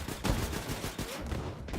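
Gunfire from super soldiers in Wolfenstein 2: The New Colossus, a short run of rapid, muffled shots from a distance over a rumbling low-end battle din.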